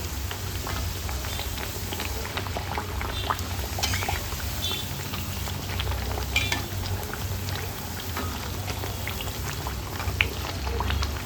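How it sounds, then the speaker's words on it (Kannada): Maddur vada deep-frying in hot oil, a steady dense bubbling crackle with scattered sharper pops, close and continuous with no talking. "ನಮ್ಮ ವಡೆ ಹೊಂಬಣ್ಣ ಬರುವ ಹಾಗೆ ಹುರ್ಕೊಳ್ಬೇಕು."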